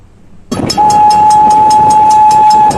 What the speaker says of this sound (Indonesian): Yang contoh lainnya ada seperti bunyi kereta api atau bunyi corong kereta api.